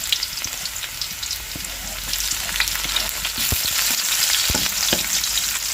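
Ginger and garlic sautéed in a hot wok for a Filipino ginisa base, giving a loud, close, continuous frying sizzle with occasional stirring scrapes and no talk.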